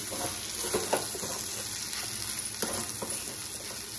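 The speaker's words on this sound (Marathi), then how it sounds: "खिचडीला सारखं हलवत राहू, नाही तर ती खाली लागेल।" Sabudana khichdi sizzles and fries in a pan while a utensil stirs it, with scraping strokes at irregular moments over a steady, quiet crackle. The sound is close and stays fairly soft.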